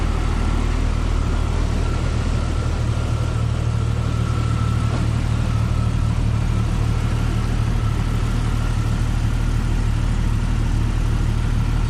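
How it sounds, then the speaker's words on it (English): A 1998 Jeep Cherokee XJ engine idles steadily after a radiator replacement, a loud, even, continuous rumble close by with no change in pace and no voices. "We'll let it idle until the thermostat opens"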